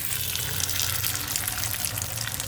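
An egg and noodle mixture poured into a hot oiled pan, producing a steady, loud, rushing sizzle that holds without a break for the whole moment.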